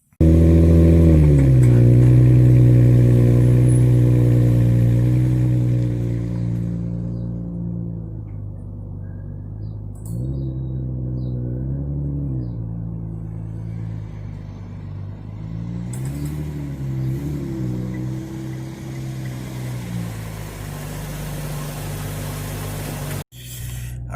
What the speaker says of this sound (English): let me turn the car around and then get this car started